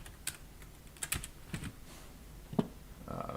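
Computer keyboard keys clatter in quick irregular taps, close and fairly quiet, with no talking over them.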